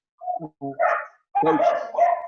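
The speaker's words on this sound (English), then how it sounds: "I'm sorry about my dog. They think somebody's outside the door out there." A dog barks in short bursts at someone it thinks is outside the door, with a few yips followed by louder, sustained barking close by in an indoor room.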